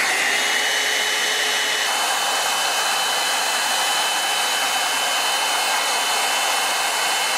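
A hair dryer blows in a steady, loud, continuous roar with a faint whine, the tone shifting slightly partway through as it keeps running without pause.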